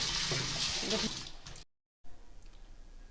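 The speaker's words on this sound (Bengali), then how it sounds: "একইভাবে আমরা একটু ধুয়ে নেবো যতক্ষণ না পরিষ্কার জলটা বেরোচ্ছে।" Running water pours and splashes as kochur loti (taro stolons) are rinsed clean, loud and close at first, then a short silent gap and a quieter trickle after.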